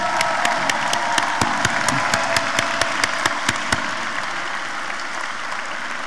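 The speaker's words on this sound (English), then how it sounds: "I ask everyone to give these graduates a very special round of applause" Audience applause with scattered cheering at a spring commencement ceremony, a broad crowd clapping throughout while several sharp, close claps ring out in quick succession during the first few seconds.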